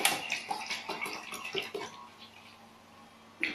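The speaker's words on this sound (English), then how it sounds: "And you put some coconut water inside there." Coconut water is poured into a pot for a boiled remedy, heard as a run of small splashes and drips that thin out and pause near the end before one last splash, fairly quiet and without talk.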